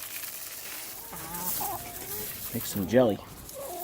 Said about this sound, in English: I'm just taking care of the chickens real quick